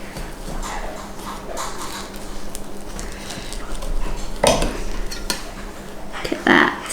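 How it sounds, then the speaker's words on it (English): A knife cuts a tray of baked vegan mince pie bars, giving soft scrapes and taps against the metal baking tin, with a couple of sharper clinks near the end and light kitchen hum. "So now we just need to cut this into our bars."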